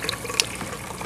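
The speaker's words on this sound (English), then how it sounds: "it's definitely sucking down a lot of bubbles, which are escaping down to that first slot" Water pours steadily into a backyard aquaponics tank, a close, continuous splashing and trickling with small bubbly gurgles as air is drawn down, and no voices.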